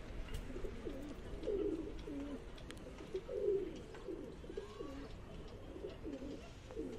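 Pigeons coo softly in repeated low, rolling phrases on a village rooftop, fairly close but quiet against a faint background hiss, with no talking.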